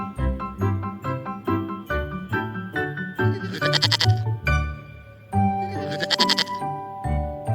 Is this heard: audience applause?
no